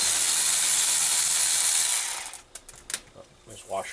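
A Moroso 22640 vacuum pump being taken apart by hand: a loud, steady broadband whir for about two seconds, then it drops off into scattered clicks, ratchet-like ticks and small metallic clatters of parts coming loose, close and without talk.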